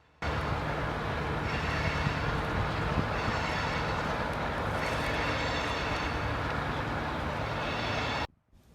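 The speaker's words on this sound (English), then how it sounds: "Michigan Shore finishing up their work and shoving their train to the south end of the yard" A Michigan Shore Railroad train shoves its cars toward the south end of Waverly Yard, giving a steady, loud rumble of engine and rolling stock that holds level throughout, then cuts off sharply near the end.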